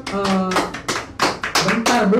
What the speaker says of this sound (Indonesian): kami tepuk tangan dulu